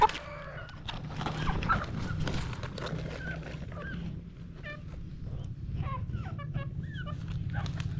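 Native chickens cluck and call in a rural village yard, several birds near and farther off, with a low steady background hum throughout.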